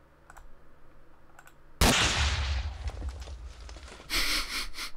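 A rocket launcher fired at a spawner in Minecraft: a sudden loud blast bursts in after light clicks, rumbles and decays, then a second bright crackling burst follows near the end.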